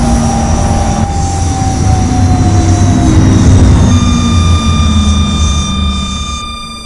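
A London tram running through Croydon in the London Transport video game, a loud continuous rumbling roll with a gliding motor whine that rises and shifts, fading slightly toward the end.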